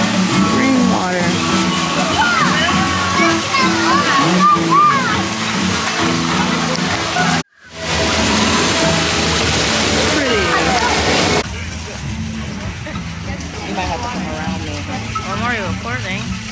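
An interactive water fountain at EPCOT's Flower & Garden Festival splashes and sloshes in continuous bursts, with people talking nearby over the water; a brief dropout breaks the sound midway.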